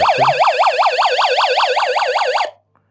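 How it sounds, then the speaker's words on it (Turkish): A loud electronic siren from a Degen DE13 emergency radio with flashlight wailing in fast, regular up-and-down sweeps for about two and a half seconds, then cutting off abruptly. "Bir de siren var. Siren de şöyle çalacak."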